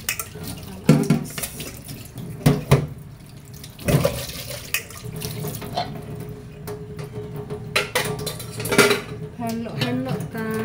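Water runs from a tap into a sink while cooking pots are washed, with clanks of pots and utensils and scattered splashes throughout; a voice speaks briefly in the background.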